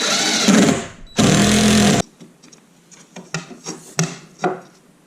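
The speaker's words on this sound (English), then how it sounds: "I screw this stud into the same shiplap boards as the other stud over there" Power driver sinking a screw through a stud into shiplap boards in a school bus conversion: a loud whirring burst, a brief pause, a second longer burst, then scattered knocks and handling clatter.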